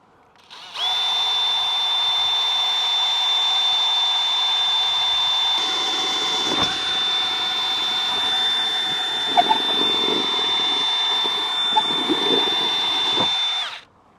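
A power drill grinds steadily through an exterior wall to make a cable hole for a security camera, running loud and continuous for about thirteen seconds with a high whine and no talk.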